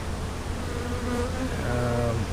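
A small honey bee swarm buzzing on an old plastic-cell hive frame, a close, continuous droning hum that swells slightly toward the end, with no voices.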